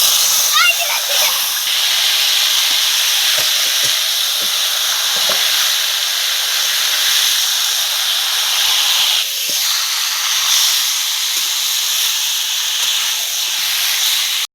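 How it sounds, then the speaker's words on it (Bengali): Meat tipped into hot oil tempered with bay leaf, cinnamon, cardamom and peppercorns for an old-style home curry, giving a loud, steady hissing sizzle that runs continuously with a few brief splatters. "এবারে মাংসটা ঢেলে দিচ্ছি।"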